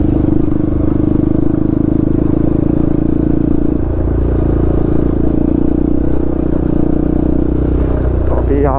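Motorbikes crawl over a rocky, stony trail toward a waterfall, with a steady engine drone close by and some clattering and scraping over the rocks, all under continuous talking.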